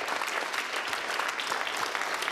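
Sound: audience applause for Janko Lehotský

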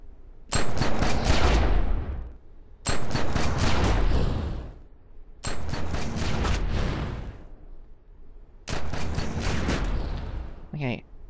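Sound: video game pistol fire, Killer Flow skill demonstration

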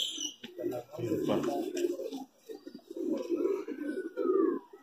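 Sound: high flyer pigeon cooing

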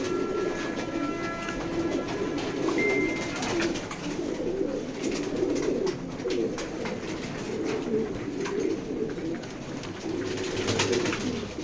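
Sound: checker pied racing pigeons cooing

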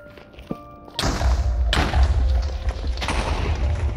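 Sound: explosions in the Nether in the video game Minecraft

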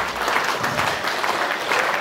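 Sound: audience applauding the feast hosts

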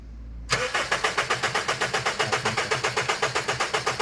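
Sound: Honda Civic FD engine starting

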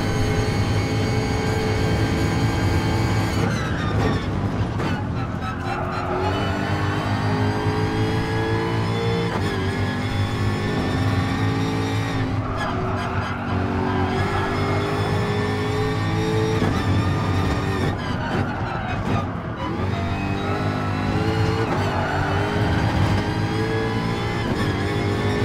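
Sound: car engine driving in a racing video game

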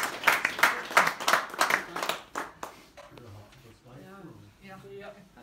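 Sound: audience clapping for cartoonist Arcadio Esquivel

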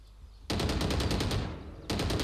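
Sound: gunfire in the video game Valorant

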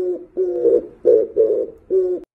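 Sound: Oriental turtle dove cooing in the morning

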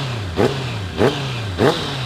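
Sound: Honda CBR650R motorcycle engine revving

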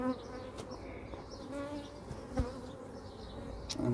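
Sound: honeybees buzzing around a beehive

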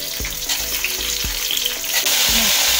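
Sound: kundru (ivy gourd) frying in hot oil

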